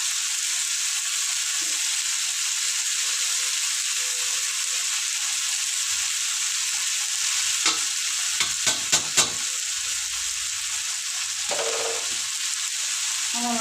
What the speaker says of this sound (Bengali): আর এখানে হচ্ছে করলা আলু ভাজি করছি।